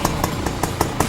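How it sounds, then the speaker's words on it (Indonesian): A 1979 Suzuki A100 two-stroke motorcycle idling up close, a loud steady engine note with regular popping exhaust pulses roughly five times a second and no talk. "Kita cek sound dulu apakah masih stasioner"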